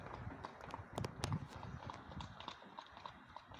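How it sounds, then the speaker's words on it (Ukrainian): Hooves of working draft horses in Ukraine clip-clop in an uneven rhythm of soft, fairly close thuds, with a few sharper clacks near the start and quieter steps fading on. "Отакі у нас хлопці коні робочі."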